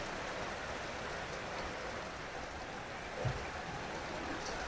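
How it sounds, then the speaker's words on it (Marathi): Steady, dense rain pours down without a break, a continuous hiss of heavy drops on surfaces. "तितक्यात बघा मोठा पाऊस आलाय"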